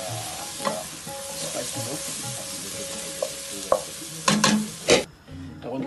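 Onions sizzling and frying in oil in a pan for chicken achari, stirred now and then with a few sharp scraping knocks of the spoon, steady and close, with brief talk in the background.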